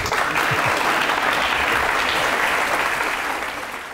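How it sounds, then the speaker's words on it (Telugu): Steady, dense applause from an audience fills the whole stretch, loud and sustained before easing off slightly at the end. "clap for that"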